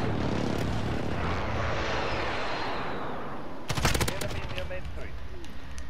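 Call of Duty Modern Warfare airstrike and gunfire: a steady roar of aircraft and rumbling fire gives way to a sharp, dense burst of loud shots near the middle, followed by scattered crackling.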